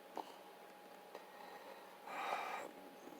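A quiet, wet sniffle through a stuffy nose, with a couple of faint breaths before it and no talking.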